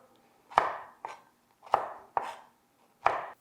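A knife chops broccoli into even pieces on a cutting board: five crisp, close chopping thuds at uneven intervals, with near silence between them.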